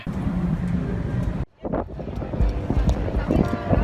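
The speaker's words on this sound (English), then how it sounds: "It's really windy." Strong wind on a cruise ship buffets the microphone in a loud, rumbling roar, dropping out briefly for a moment before gusting back in.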